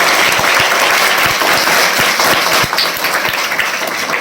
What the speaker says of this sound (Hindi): अच्छी लगी हुई तो ताली बजाइए